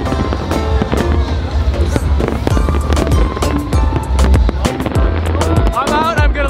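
Fireworks at the Hanwha fireworks festival burst loudly and continuously, dense crackling pops and booms layered over one another with crowd noise throughout.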